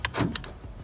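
Power door lock actuators on a Ram truck firing, a quick pair of sharp mechanical clunks a fraction of a second apart, close and crisp with a short whirring thud between them.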